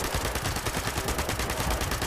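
SMG firing in Fallout 76, a rapid, steady stream of automatic gunfire running densely through the whole moment without pause.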